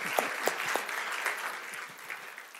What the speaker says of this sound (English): Please welcome to the stage, with a warm round of applause, Owen Jones.